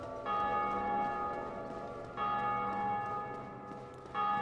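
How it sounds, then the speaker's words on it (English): Large bell tolling in the video game Dark Souls Remastered, three deep resonant strikes about two seconds apart, each ringing out and slowly decaying, loud and alone. "Kind of wish they'd stop the sound of the bell ringing when you've already rung that bell"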